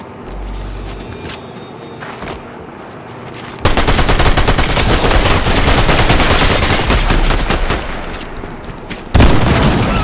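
Gunfire in the video game Fortnite, dense rapid bursts of shots that start abruptly and continue loudly for several seconds, with a final sharp burst near the end, no talking over it.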